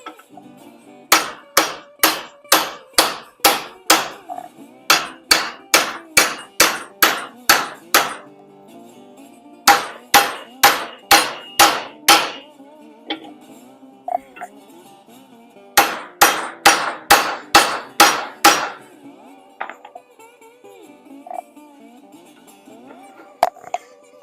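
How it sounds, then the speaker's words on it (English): Loud, rapid bursts of copper hammer strikes on metal, a dozen or so blows per run, repeated in several runs with short pauses between. "Always use a copper hammer so then it doesn't damage the little clout ends here"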